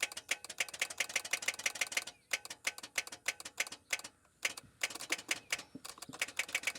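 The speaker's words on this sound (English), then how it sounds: "You can hear the starter click." Starter relay on a newer Chevy Colorado clicking in a rapid, steady run of sharp ticks, briefly pausing then continuing, close up with no talking.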